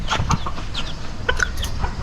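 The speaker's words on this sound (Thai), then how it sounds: "นี่คือไก่ชิลกี้นะ โอ้โหเขาฟักไข่อ่ะ" A silkie chicken sitting on eggs at a zoo gives a run of soft, close clucks and short calls over light background murmur.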